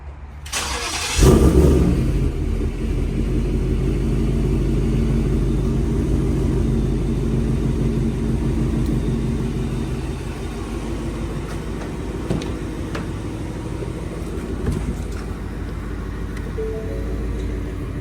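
A Ford Mustang engine with switchable exhaust valves fires up with a sharp burst, then settles into a deep, loud, steady rumble close by that fluctuates slightly in intensity.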